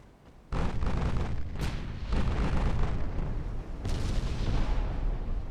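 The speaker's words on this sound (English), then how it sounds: "Luckily the ship got the memo and is blasting the cruiser to bits." Heavy naval guns fire on a cruiser in a warship battle game, a series of loud, sharp booms with rolling rumble between them, three or four blasts spread over several seconds.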